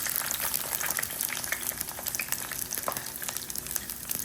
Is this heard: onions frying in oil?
yes